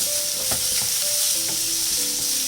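Corn filling for cheese samosas being stirred in a frying pan, a steady loud sizzle with soft spoon scrapes throughout.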